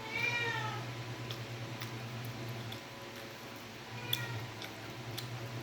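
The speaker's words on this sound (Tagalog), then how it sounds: "Mga pusa ko na una pang nag-almusal sa akin, nagwawala na lang." Hungry cats meow for breakfast, several drawn-out cries near the start and again toward the end over a steady low hum, fairly close, with no talk.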